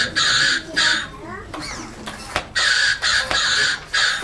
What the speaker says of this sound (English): The crow says nevermore.